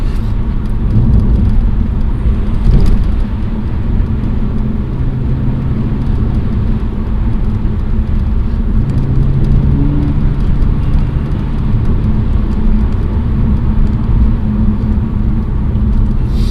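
A BMW 330ci Clubsport drives along a muddy single-carriageway country road, its engine and tyres making a steady, loud low rumble and whir that continues without letup and without speech.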